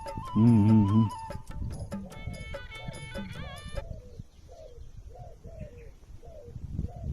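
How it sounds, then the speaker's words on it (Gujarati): Several soft, low dove coos repeat in a steady rhythm, mixed with other bird chirps and a brief louder buzzy call near the start. "ઉપર હોલો બોલે જો, હા હોલો બોલે"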